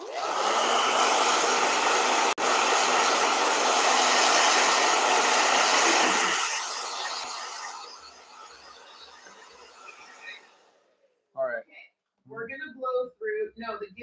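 A blow dryer runs loudly and steadily for about six seconds, then its whine winds down and fades to silence, after which a person begins talking close by.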